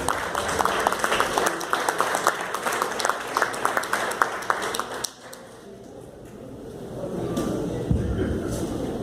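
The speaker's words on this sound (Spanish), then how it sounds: "Le damos un aplauso de bienvenida." Welcoming applause from an audience at a pastoral liturgy conference in Tijuana: rhythmic clapping for about five seconds, then it cuts off abruptly into quiet room tone with faint low noise.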